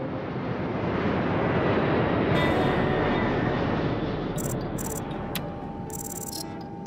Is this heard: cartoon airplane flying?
yes